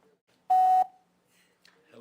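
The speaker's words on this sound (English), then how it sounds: "Please leave your name and number when you hear this beep." An answering machine gives a single steady electronic beep lasting about a third of a second, clear and fairly loud, with faint speech sounds starting just afterward.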